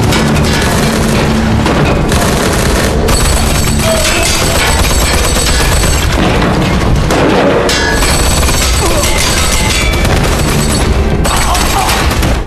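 Dense, loud barrage of gunfire and booms in a film battle scene, continuous rapid shots layered with explosions and chaotic noise throughout, with faint voices mixed underneath.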